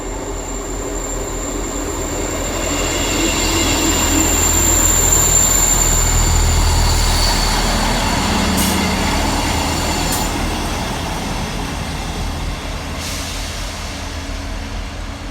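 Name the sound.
passenger train unit 158881 arriving at Romsey Station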